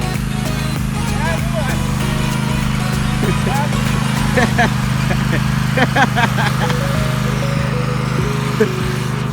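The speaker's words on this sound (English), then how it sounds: "So he's been running the mower without the blades on" Husqvarna Z248f riding mower running steadily with its blades removed, a loud continuous engine drone throughout with a person talking over it.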